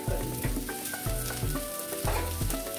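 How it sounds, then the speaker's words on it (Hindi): Ground spices such as fennel and coriander powder with salt roasting in a hot pan for sambar give a steady, close sizzle, with rhythmic scraping and stirring clinks repeating throughout. "कुछ सेकंड के लिए भी थोड़ा भून लेते हैं मसाले को।"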